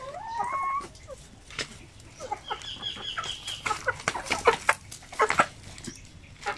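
Pure Zampen native chickens and chicks cluck and peep in a backyard setting, a few high chick chirps at first, then scattered clucks and calls at close to moderate distance, fairly quiet overall.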